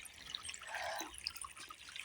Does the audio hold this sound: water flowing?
yes